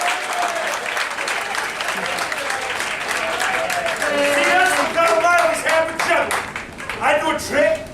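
Audience applause fills a live show hall with steady clapping and crowd noise throughout, swelling louder toward the middle and end, with voices mixed in.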